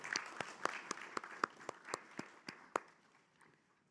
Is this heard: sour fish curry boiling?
no